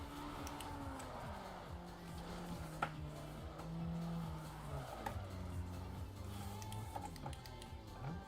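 Racing cars in the Need for Speed Underground 2 video game: engines whine and shift pitch as they accelerate, with brief tire noise and small clicks, all fairly quiet and without speech.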